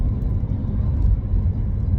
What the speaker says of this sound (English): I'm checking my right mirror, blind spot, and I'm going to overtake this lorry